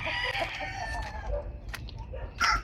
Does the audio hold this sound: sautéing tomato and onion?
no